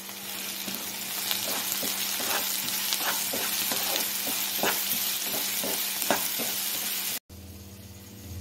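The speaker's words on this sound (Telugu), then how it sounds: "అలాగే కొంచెం అల్లం తరుగు, కొంచెం సాల్ట్ వేసి బాగా వేయించండి." Chopped onion, green chilli, ginger and salt fry in a pan with a steady close sizzle and frequent scraping stirs, until the frying suddenly stops and a quieter, duller sizzle follows.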